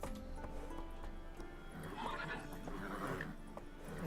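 Roach, a horse in The Witcher 3 video game, gallops with quick clip-clop hoofbeats. A whinny breaks through, all set against busy game ambience and music at a moderate level.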